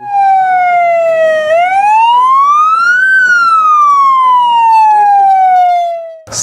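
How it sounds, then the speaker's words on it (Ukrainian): A loud ambulance siren wails steadily, its pitch sliding down, then up, then down again in long smooth sweeps, ending abruptly. "Швидка вже їде."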